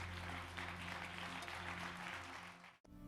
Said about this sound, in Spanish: De ese aplauso de alabanza al Señor.